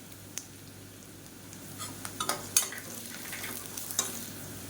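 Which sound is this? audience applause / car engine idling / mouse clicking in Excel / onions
onions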